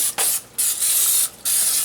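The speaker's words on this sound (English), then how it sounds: "So I am using, it's just extra virgin, wow it's dark, extra virgin olive oil spray." A can of extra virgin olive oil spray hisses onto a turkey in four short, close bursts, each a bright rush broken by brief gaps.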